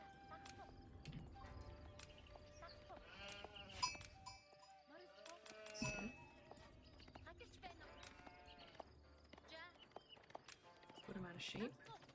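Sheep in a video game bleat in several short, close calls scattered among clip-clop and bell-like game sounds, while people talk throughout.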